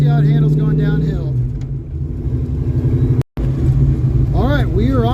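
A Ford Mustang project car rolls down a steep hill with a steady engine rumble and road noise throughout, under loud talk, with a brief dropout partway through.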